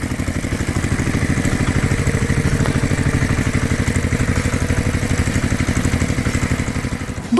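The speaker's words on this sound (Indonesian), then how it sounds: "Traktor merah menggeber ke depan, menggerakkan debu di sekitar hutan hijau. Suara mesin menggelegar" The engine of a red tractor on a farm beside a green forest chugs in a steady, close pulsing rhythm with a mechanical clatter, holding constant throughout.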